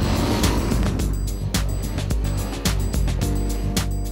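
A Cagiva Raptor 650 motorcycle powered by a Suzuki SV650 engine being ridden, a loud, close, continuous engine roar with rising and falling revs and gear changes, no talk.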